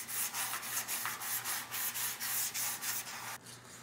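Outdoor furniture being sanded by hand: steady rhythmic back-and-forth rubbing strokes, close and fairly loud, with no talking.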